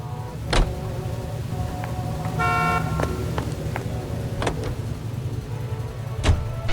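A car in L.A. Noire idles and drives with a steady low engine hum, broken by a short horn toot and a few sharp clicks and knocks, with no talk.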